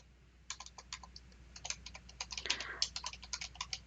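Typing on a computer keyboard while writing HTML, a close, quiet run of quick key clicks that starts after a brief pause and speeds into a dense, irregular patter.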